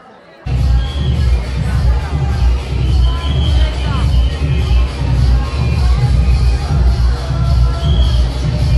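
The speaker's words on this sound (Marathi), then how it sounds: "7व्या माळेवर भक्तांचा आलेला हा आपण लोट गर्दी पाहतोय" A dense crowd of devotees on the seventh day of the Navratri festival at the Kelamba Devi temple: a loud, steady roar of shuffling and babbling voices that starts abruptly and holds throughout, with faint shouts mixed in.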